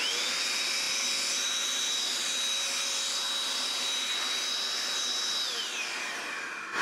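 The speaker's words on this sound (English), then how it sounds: "in my case, I'm going to be using the DataVac electric duster" A DataVac electric duster blasts air onto a circuit board while cleaning a Coleco Gemini console, a loud, close, steady high whine and rushing hiss that holds evenly and then eases toward the end.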